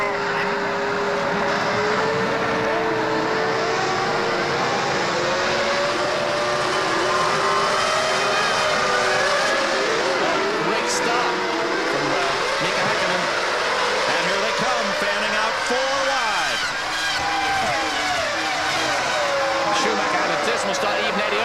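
Several F1 race cars idle and rev on the grid before the Spanish Grand Prix in the game F-1 World Grand Prix II, a dense steady engine drone with shifting whines, and commentary talking over it throughout.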